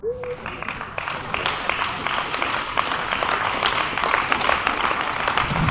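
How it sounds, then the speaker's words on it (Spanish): Congregation applause breaks out during a sermon in a church setting, building into a steady, dense wash of clapping that continues throughout, with a brief voice at the start. "no sé por qué están aplaudiendo"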